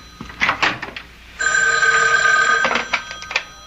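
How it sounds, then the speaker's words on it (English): A telephone bell rings in a long, steady trill lasting over a second, preceded and followed by shorter bursts, close and loud in a radio mystery drama setting. "Excuse me, that's my phone."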